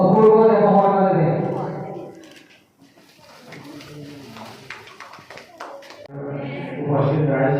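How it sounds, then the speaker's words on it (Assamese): Audience clapping at a community event launching a New Year calendar, a brief burst of scattered hand claps in the middle, framed by someone speaking through a microphone before and after. "মই অনুৰোধ জনাইছো সকলোকে হাত তালি দিবলৈ অনুৰোধ কৰি"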